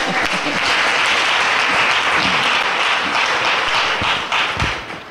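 Church congregation applauding during a French-language worship service: steady, dense clapping from a full room, loud and sustained for several seconds before thinning out at the end.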